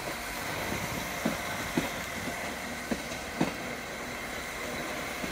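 Class 195 diesel unit pulling into Manchester Piccadilly station, a steady low rumble with occasional wheel clunks over rail joints, moderately distant amid station ambience.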